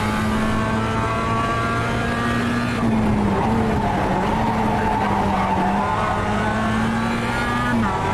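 A Mazda MX-5 in the iRacing game at Long Beach slides with its tyres squealing in a long, loud, wavering whine over the engine drone, lasting almost the whole stretch.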